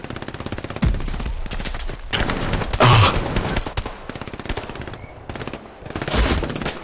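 Machine gun fire in the video game Hell Let Loose, with sustained rapid automatic bursts running nearly continuously, loud and close, with brief gaps and a few heavier impacts mixed in.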